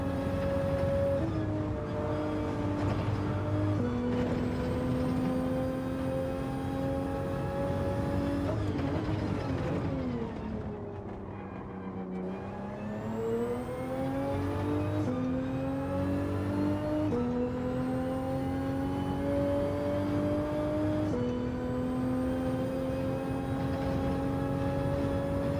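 Toyota Supra racing around a track in Gran Turismo 7, its engine droning steadily with rising and falling pitch through gear changes, dipping briefly mid-lap before climbing again.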